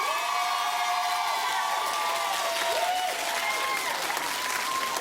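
Studio audience on a daytime talk show claps steadily in a dense, continuous wash of applause lasting several seconds, with a tone or music line running underneath.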